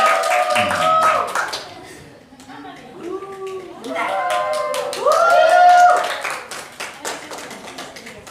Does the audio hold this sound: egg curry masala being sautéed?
no